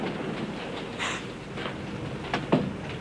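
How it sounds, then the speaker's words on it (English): An old Melbourne tram rumbles along at low level, with a soft clatter and a couple of brief metallic clunks near the end, no voices. "Bloody trams."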